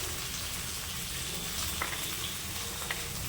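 Onion, tomato and cashews fry in a pan with a soft, steady sizzle and light crackle throughout, quiet and close.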